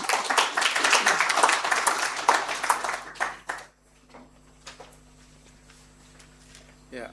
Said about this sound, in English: Yeah, another round of applause to Professor.